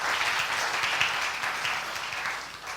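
A church congregation applauds during a sermon, with many hands clapping in a sustained, moderately loud burst that keeps going across the whole moment.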